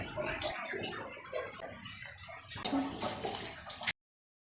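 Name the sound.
cup of water poured into chilli chicken sauce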